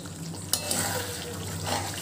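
Meat sautéing in oil in a pan gives a soft, steady sizzle with a sharp spoon clack near the start and faint stirring, close and quiet, no speech.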